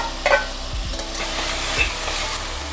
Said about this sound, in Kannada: ಇವಾಗ ಸಕ್ಕರೆಯಲ್ಲಿ ಬೇಯಿಸ್ಕೊಂಡಿರೋ ಕುಂಬಳಕಾಯಿನ ಇದಕ್ಕೆ ಹಾಕೊಳ್ಳೋಣ.